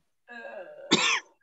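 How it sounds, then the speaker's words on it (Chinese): A single person clears their throat with a short, muffled cough in a quiet room. It is brief and close, with no talking. "有咳嗽了是的呀。"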